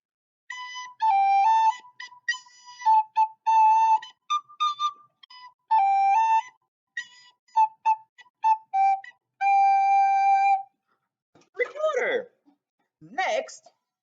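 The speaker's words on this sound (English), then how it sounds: "This is a recorder." A blue recorder plays a lively tune of short and sustained notes for about ten seconds, close and clear, followed by a brief spoken voice at the end.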